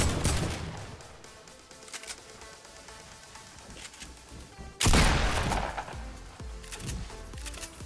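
Gunfire in Fortnite during play with the Max Lynx skin: a dense run of sharp shots and impacts throughout, with a louder close burst midway, no talking.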